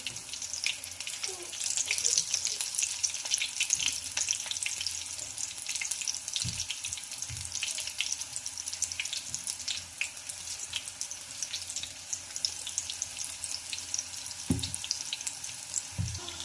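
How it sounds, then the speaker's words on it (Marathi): Gram-flour-battered green chillies deep frying in hot oil for mirchi bhaji: a continuous bright, crackling bubble of oil that stays even throughout, with a few soft low knocks and no talking. "तर इथं बघू शकता अतिशय छान आपली मिरची भजी फ्राय झालेली आहे"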